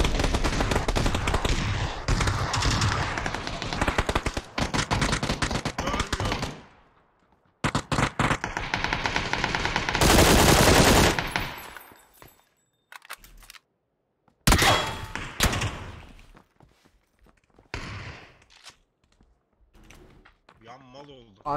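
Bursts of gunfire in the battle royale game PUBG during a first-person squad match, loud near shots in rapid clusters separated by short quiet gaps, with players talking over the action.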